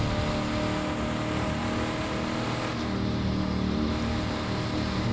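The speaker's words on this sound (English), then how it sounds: "So I'm in a 1992 EB GT Falcon." A 1992 Ford Falcon EB GT drives through suburban streets in a video game, its engine droning with a steady, loud hum and a faint rise in revs, heard alone without any talk.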